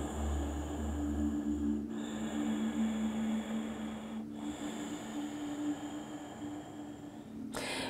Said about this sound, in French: Faites des belles longues respirations vraiment pour gonfler toutes les côtes derrière.